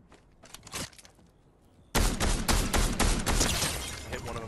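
In the Fortnite video game, a grenade bursts and rapid gunfire follows: a few separate shots first, then a loud, dense stretch of repeated bangs and crackling.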